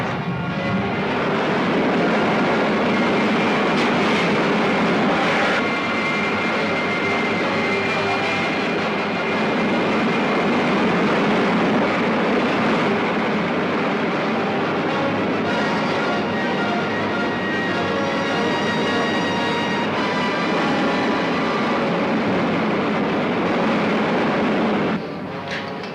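A rocket ship's main jet fires with a loud, steady roaring rush that holds for about 25 seconds, dense and continuous with faint tonal whines riding on top, then cuts off abruptly near the end.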